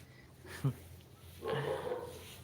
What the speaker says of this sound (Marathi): कसे कुत्रे भुकतात रे बाबा विचित्रच भुकतात